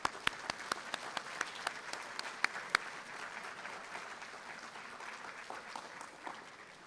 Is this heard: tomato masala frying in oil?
no